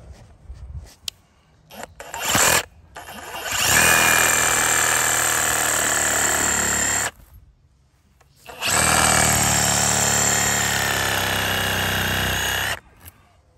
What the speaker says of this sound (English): We'll go after this with a reciprocating saw.